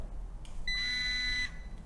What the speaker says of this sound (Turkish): böyle uzunca bir bip sesi duyarız